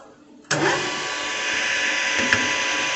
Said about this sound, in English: And now we're machining off the last cut of that piece.